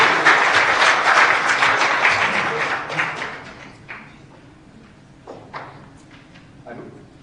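Loud applause from a crowd fills the opening seconds, then fades to scattered claps and a few isolated taps against a quiet room.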